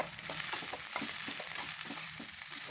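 Soybean chunks fry with onion, ginger and asafoetida in a pan over a medium gas flame, a steady close sizzle broken by regular scraping stirs, with no voices.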